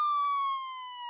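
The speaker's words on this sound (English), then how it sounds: "Suddenly, outside, they hear the sound of a siren." A police car siren sounds in a steady, clear electronic tone that slowly drops in pitch, fairly loud and alone.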